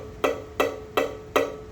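Four evenly spaced, quiet, muted plucks come from a violin string whose finger does not press it fully against the fingerboard, each a short dull thud with no ringing pitch.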